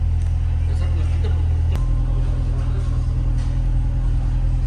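A Chevrolet C7 Corvette V8 idles and rumbles on the road, a steady low, close engine drone that shifts pitch once partway through as it picks up.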